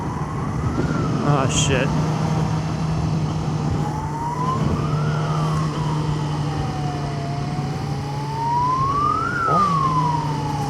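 A wailing ambulance siren rises and falls slowly over constant traffic and motorcycle engine noise, while a rider briefly exclaims.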